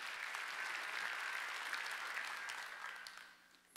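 A church congregation at a Sunday worship service applauds together, a dense, steady wash of many clapping hands that holds for several seconds before tapering off near the end.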